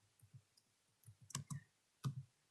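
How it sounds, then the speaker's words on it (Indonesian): Someone types a network command on a computer keyboard, a short run of soft, close key clicks with a few sharper, louder strikes near the end, in an otherwise quiet room. "Selanjutnya kita ketik"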